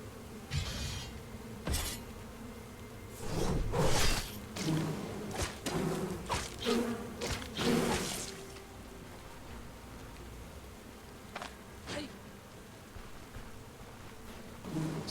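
Bees buzz and flit around in the fantasy RPG Stoneshard, with a busy cluster of buzzing passes and impacts over the first half before thinning to sparse, fainter hums, with no talking.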